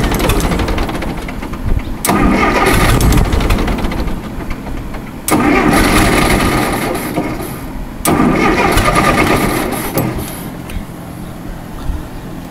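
An Allis Chalmers One-Seventy tractor engine cranks and fires several times, with loud bursts of mid-pitched rumbling idle that cut out and restart three times. It is heard up close with no talking.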